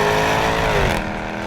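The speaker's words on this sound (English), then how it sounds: "open that thing up and hear that exhaust bellow off the hills" A Jaguar F-Type R AWD accelerates hard on an open road, its exhaust giving a loud, close, sustained roar with a rising tone that eases off near the end.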